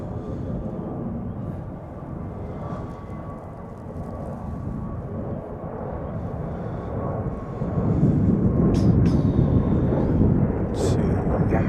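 Giant 517, a large cargo airliner, departs Chicago O'Hare with a broad, distant jet engine roar that swells louder toward the end, over steady background rumble, with occasional voices.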